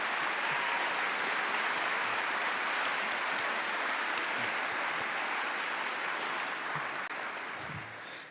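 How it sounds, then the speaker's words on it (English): A high school band concert audience applauds the band directors with dense, steady clapping that holds throughout and eases slightly at the end. "So can you give them another round of applause, please?"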